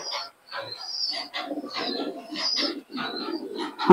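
A female pigeon coos in a repeated run of soft, throaty calls with brief pauses between them, close by and clear.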